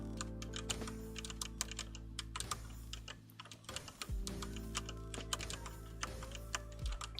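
Steady computer keyboard clacking during a TETR.IO session, rapid irregular keystrokes close to the mic with brief pauses, no talking.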